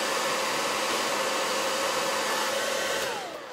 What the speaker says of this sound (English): He borrowed the blow dryer,